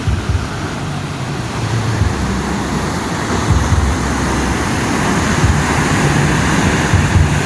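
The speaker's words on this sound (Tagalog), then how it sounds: "Hampas ng alon dito sa mga bato." Waves crash against the rocks at Masangret blue lagoon in Burgos, Pangasinan, a loud, steady, surging roar of surf with gusts of wind and no speech.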